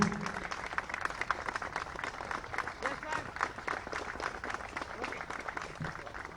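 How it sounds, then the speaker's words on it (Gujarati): An audience at a Gujarat ATS police function gives a police officer a welcome round of applause: dense, steady clapping from many hands throughout, moderately close and even. "જોરદાર તાળીઓથી આપણે સ્વાગત કરીએ"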